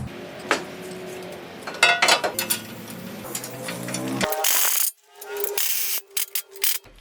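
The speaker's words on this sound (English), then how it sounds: "still gonna use a 17mm socket with these factory bolts" Ratchet with a 17mm socket driving factory bolts on the skid plate of a 2005-2015 Toyota Tacoma, rapid clicking pawl bursts close up with brief pauses and metallic clinks between runs.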